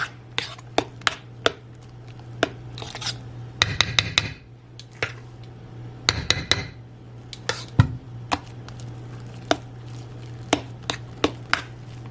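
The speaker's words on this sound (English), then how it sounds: "So now that I have all the cream inside the pudding, we're going to continue mixing it so everything is nice and blended." A utensil mixes cream into banana pudding in a bowl, sharp clinks and taps against the bowl at an irregular pace with soft stirring between, close and clear with no voices.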